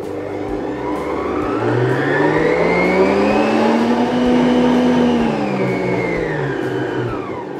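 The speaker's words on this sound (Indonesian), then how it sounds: "Lalu kita kocok sampai kental dan pucat. Kocok boleh langsung kecepatan tinggi." An electric mixer whisks batter at high speed for a lapis mandarin layer cake. Its loud, close motor whine swells and falls in pitch over a low rhythmic thumping.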